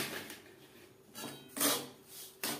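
Semolina and powdered milk are stirred together in a pan off the heat, giving a few soft, dry scraping rasps in short separate strokes, close and quiet.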